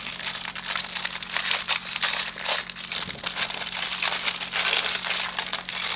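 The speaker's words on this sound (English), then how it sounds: "let me get the noisy plastic out of the way" Plastic packaging from an RC monster truck crinkles and crackles continuously up close as it is unwrapped, in dense irregular bursts.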